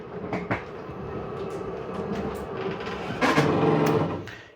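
The 12-volt rack and pinion slide-out gears of a 2025 Sabre 33RLP fifth wheel RV rumble and clatter steadily as the room retracts, with a louder burst of mechanical clicking near the end.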